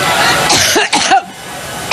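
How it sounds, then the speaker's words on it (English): Someone gives a short burst of harsh, throaty coughs lasting about a second, loud and close, then it goes quiet. "yet another coughing fit"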